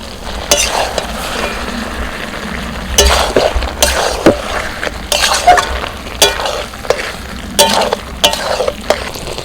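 Close-up sizzle as a fried spice mix is added to cooked vegetables with yardlong beans, with repeated scraping and stirring from a spoon against a pan, in irregular bursts, no talking.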